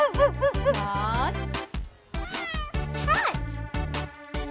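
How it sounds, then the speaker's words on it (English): A cartoon cat meows twice in a children's animal-naming segment, the calls sitting over a bouncy music track with plucked bass and steady beats. "Cat."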